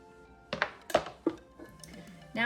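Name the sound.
diced yellow onion being added to the pot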